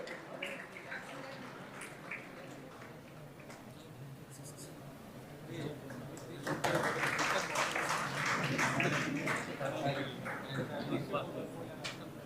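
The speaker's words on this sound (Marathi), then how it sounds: "प्रत्येक सन्मानासाठी टाळ्या झाल्या पाहिजेत" Applause from the audience at a ceremony honouring students and wrestlers, starting scattered and quiet, then swelling into fuller clapping partway through, with some talk underneath.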